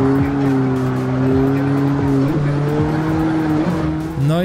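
Car drifting in the racing video game CarX Street, with a loud engine held at high revs, tonal pitch shifts as gears and throttle change, and tire squeal throughout.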